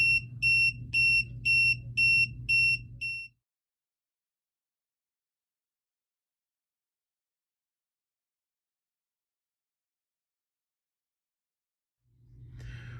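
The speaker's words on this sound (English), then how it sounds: "it says it's going to have an alarm for all the tires that are not up to pressure" A tire pressure monitoring system gives its low-pressure alarm: a rapid run of about seven sharp electronic beeps for three seconds, then a long silence, then a steady buzz that starts near the end.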